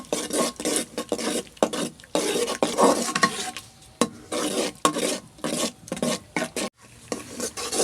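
Three beaten eggs are stirred and fried in onion masala in a pan, a spoon scraping in irregular bursts over a low sizzle, close and clear with no talking.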